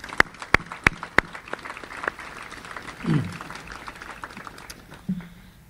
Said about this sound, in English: So please, round of applause for the team.